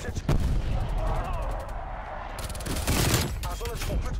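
Dense gunfire from the Call of Duty Cold War video game, loud continuous rattling volleys with explosive booms, briefly easing before another heavy burst.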